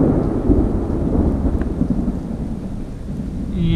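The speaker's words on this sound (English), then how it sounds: "That was lightning. I'm not really down for lightning." Thunder from a lightning storm rumbles low and heavy over an urban pond in San Antonio. Steady rain falls around it, with no voices.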